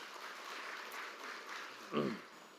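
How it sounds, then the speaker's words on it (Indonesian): Applause from a large crowd for the Indonesian President at an official ceremony: a steady, diffuse wash of distant clapping, with a voice briefly rising near the end. "Tepuk tangan untuk Pak Presiden."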